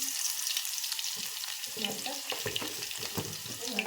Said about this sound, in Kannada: ಈಗ ನೋಡ್ರಿ ಎಣ್ಣೆ ಅಂತರ ಬಿಸಿ ಆಗ್ಯದ ಇದಕ್ಕೆ ನಾನು ಇಲ್ಲಿ ಬೆಳ್ಳುಳ್ಳಿ ಹಾಕೊಲತ್ತೀನಿ ರೀ